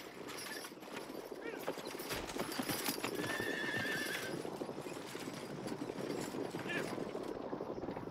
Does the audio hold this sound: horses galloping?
yes